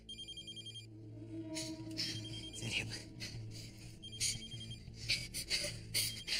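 A telephone rings briefly in a tense drama scene, a short run of electronic ring pulses at the start, then gives way to a voice speaking and a mix of background noise.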